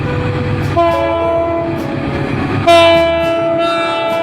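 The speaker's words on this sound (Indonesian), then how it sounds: "Hal ini membuat lokomotif ini memiliki suara klakson yang sangat unik." Loud, sustained horn of a CC 206 diesel locomotive blasting in two long chord tones, the second louder, over the rumble of a passing train.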